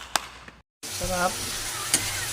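Tomatoes sauté with flaked fried galunggong fish in a hot pan, giving a steady sizzle with a few stirring scrapes, loud and near, after a brief silence.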